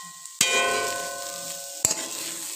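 Egg chowmein noodles and vegetables are stirred in a sizzling wok, with a soft constant frying hiss broken by two sharp metallic clanks of the spatula against the pan.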